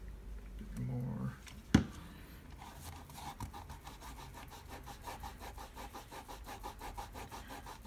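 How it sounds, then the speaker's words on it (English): Sticky residue is rubbed off plastic electronics in a quick, steady scrubbing rhythm, close and fairly quiet, after a sharp knock, with a voice murmuring early on. "It just still rubs right off."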